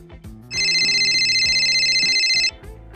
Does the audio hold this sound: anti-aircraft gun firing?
no